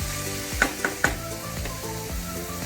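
Ginger paste, garlic paste, chopped onion and tomato fry and sizzle in a pan while being stirred, with a few sharp spatula knocks early on over a steady close crackle.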